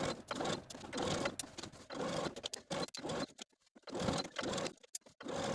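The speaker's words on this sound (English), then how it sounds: "take this to the sewing machine and stitch in the ditch of that seam where we just pinned" A sewing machine stitches in the ditch of a seam on a skort yoke, its rapid mechanical chatter running in bursts with short pauses between them, close and steady.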